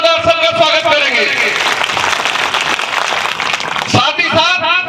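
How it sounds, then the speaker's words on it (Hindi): Audience applause welcoming everyone at a community gathering, clapping running underneath a loud amplified voice speaking over a PA, with the talk continuing throughout. "एक दूसरे सभी ताली बजाकर जोरदार सबका स्वागत करेंगे"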